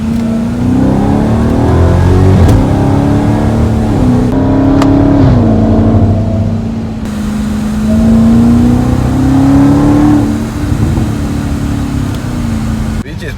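A Dodge Hellcat's supercharged engine roars and revs loudly under a highway underpass, its droning note rising and falling through repeated pulls with echoing reverberation.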